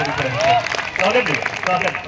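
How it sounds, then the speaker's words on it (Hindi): An audience at a kavi sammelan poetry gathering in Kanpur applauds in a crowded burst of clapping, mixed with a voice speaking over it. "बजाओ जोरदार तालियां।"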